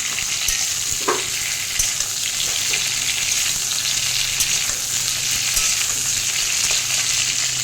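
Pieces of pointed gourd (potol) fry in oil in a pan, a steady close crackling sizzle running throughout with occasional faint clinks, and no voices.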